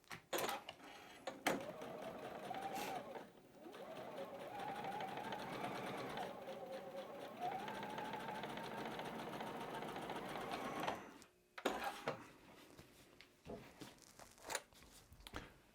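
A sewing machine stitches quilt rows together with a steady, fast mechanical whir for about ten seconds, then stops, followed by fabric handling sounds and brief speech.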